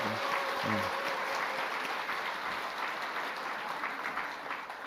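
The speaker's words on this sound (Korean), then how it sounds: "다시 한번 박수 주시기 바라고" A church congregation applauding a missionary, a steady, moderate wash of many hands clapping in a large room, with a brief voice at the start.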